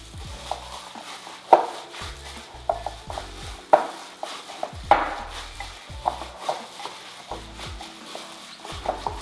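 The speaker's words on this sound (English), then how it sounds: "We're gonna mix this up really well" Gloved hand mixing a manti meat filling seasoned with chili flakes, giving soft squelching, slapping pulses at an irregular rhythm, close and moderately loud with no talk.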